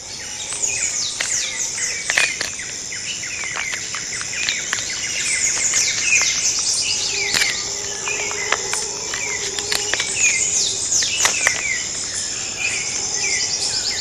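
Birds call and whistle in a Central American forest, bright chirps and sweeping notes overlapping at varied distances above a constant high insect drone, with no voices.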